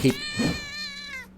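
A single drawn-out cat yowl from a video game, rising then slowly falling, close and clear for about a second.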